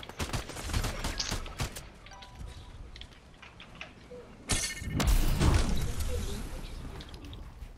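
Gunfire in Fortnite, a quick burst of sharp shots at the start followed by a loud crashing flurry of impacts and shattering midway, mixed with game noise.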